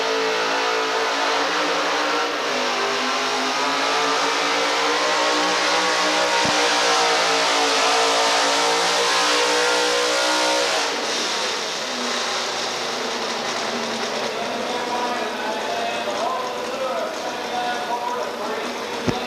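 A modified truck engine at a truck-pull event roars steadily with rising and falling revs, loud and sustained, while an announcer talks over it.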